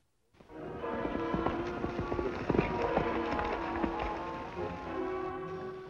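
A horse gallops at speed in a Western adventure setting, its rapid clip-clop hoofbeats loud and continuous over rushing background noise, with no talking.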